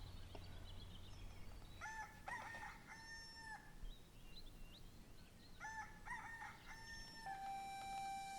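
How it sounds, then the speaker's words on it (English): A rooster crows twice, faint and somewhat distant. Each call is a long harmonic cock-a-doodle-doo, and the calls are separated by a few seconds of low background hum. "The rooster is crowing."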